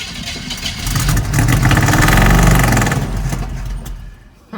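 A Squarebody GMC/Chevy K10 Stepside pickup's engine runs loud and close, swelling into a sustained rev before easing back toward idle.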